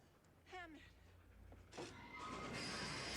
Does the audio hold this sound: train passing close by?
yes